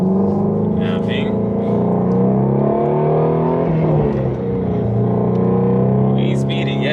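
A 2020 Shelby Ford Mustang GT350R engine drones loudly and steadily from inside the cabin while driving slowly, its tone shifting slightly, with voices talking over it.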